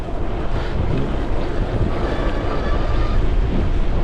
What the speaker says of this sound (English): And it's very windy today